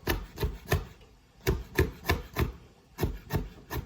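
Rhythmic knife chops mincing a jalapeno on a cutting board, a steady run of crisp taps in quick groups, close and clear with no talking.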